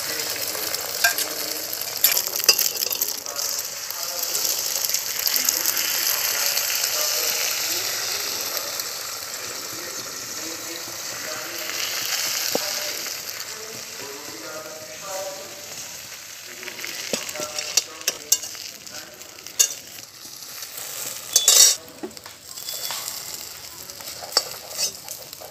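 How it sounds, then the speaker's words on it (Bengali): Beaten eggs fry into an omelet for egg curry, giving a sustained, fairly loud sizzle in a pan with occasional scraping and clicking of a spatula, close by and with no clear talk. "বাকি ডিমটাও আমি দিয়ে দিলাম। একইভাবে ডিমের আমি অমলেট বানিয়ে নেব।"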